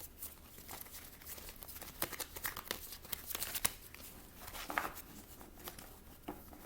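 Tarot cards being shuffled by hand at close range, a quiet bed of soft papery crinkles and riffling slaps, with a few sharper snaps standing out from the texture and no voice present.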